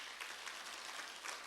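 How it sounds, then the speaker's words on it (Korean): Church congregation applauding during a Sunday sermon, a steady wash of clapping from many hands, fairly faint and even across the moment with no voices over it. "수고한 분들에게 박수 좀 보내주세요"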